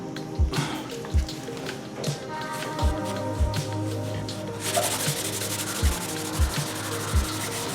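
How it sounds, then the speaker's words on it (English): Wet sanding with a hard rubber 3M sanding block and wet sandpaper on a car body dent repair: a steady scraping rub throughout, with repeated soft taps of the block at the end of each stroke, close and fairly loud. "Make sure to keep it wet when you're sanding it. That's why we're using wet sandpaper."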